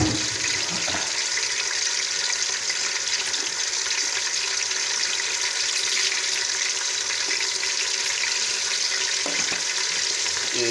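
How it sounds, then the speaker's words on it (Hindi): Chicken fries with whole spices in a pot, giving a loud, steady sizzle that holds unbroken from start to finish, with no voices over it. "अब इसमें चिकन डाल देंगे और इसको भुनाई कर लेंगे अच्छी तरह।"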